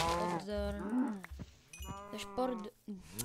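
A cow in the video game Minecraft lets out a few close moos that rise and fall over a few seconds, with someone speaking softly between and over the calls.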